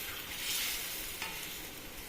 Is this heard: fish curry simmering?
yes